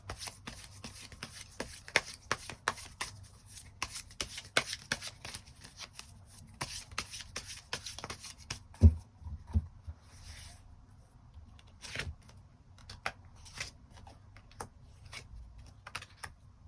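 Tarot cards shuffled for a love reading, a long run of quick, crisp flicking and tapping clicks, irregular and close, with a few heavier knocks and pauses, no talking.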